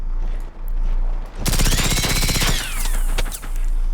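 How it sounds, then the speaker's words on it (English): Automatic gunfire rings out in the video game Generation Zero, a loud, dense burst of rapid shots lasting about a second, with ringing echoes after it and a steady low in-game drone throughout. "Anytime you see me shoot and it looks like I'm missing, those are actually warning shots just to try to scare them away."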